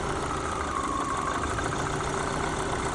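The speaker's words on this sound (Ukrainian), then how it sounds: "і мотор вже починає ліпше працювати" An Opel Zafira A engine idles steadily and close by with its third injector wire connected directly, a constant low rumble with a faint uneven knock running through it.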